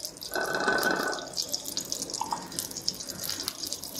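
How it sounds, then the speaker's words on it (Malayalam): Ghee is poured into a pressure cooker for egg biryani, a brief liquid trickle at the start followed by faint drips and small kitchen clatter. "നെയ്യ് ഒഴിച്ചു കൊടുക്കാം."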